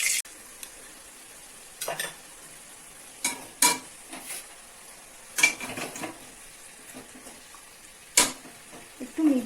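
Onion paste frying in a pan for Bengali chicken kosha, a soft low sizzle broken by intermittent scraping and stirring clinks of a spatula against the pan.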